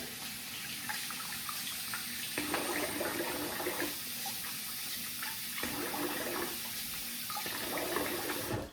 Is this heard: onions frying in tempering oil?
no